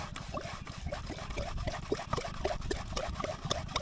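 Water gushes and splashes steadily as a shallow irrigation pump engine draws it up from the ground, with a throbbing low rumble underneath the continuous pouring flow.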